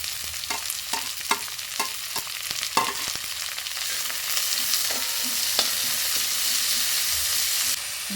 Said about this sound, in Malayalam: ഇനി നമ്മൾ കുറച്ച് കരിവേപ്പിലയും മുളകും ഇട്ട് കൊടുക്കാം. ആവശ്യത്തിന് ഉള്ള ഉള്ളികളൊക്കെ ഇട്ട് കൊടുക്കാം.